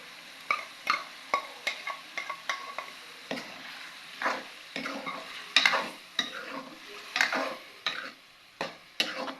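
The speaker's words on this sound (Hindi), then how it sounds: "अब मैं इसमें ऐड कर दूँगी टमाटरों का पेस्ट" Tomato paste is stirred into chicken masala frying in a pan, with a soft sizzle under repeated scraping and clinking strokes of a spoon against the pot at an irregular rhythm.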